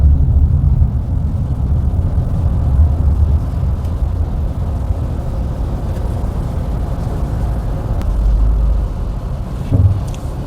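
Heavy early-morning traffic jam on a Mumbai-area highway, heard from inside a vehicle as a continuous low engine and road rumble with faint passing swells.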